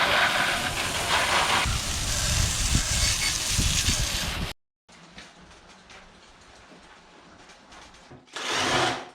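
Water spray hissing steadily over a Yamaha WR250F enduro dirt bike being washed, loud and close, then cutting off briefly before resuming more quietly and surging again at the end.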